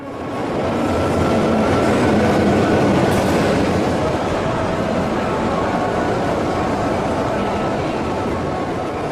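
A North Korean metro train rumbles loudly and steadily along the tracks, a dense continuous roar of wheels and carriage noise with faint clatter throughout and a brief high squeal midway.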